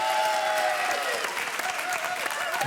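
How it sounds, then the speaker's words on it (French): Sustained applause from a studio audience, loud and steady throughout, with clapping filling the whole stretch and no voices standing out. "Et applaudissements pour Nadège et Laurent"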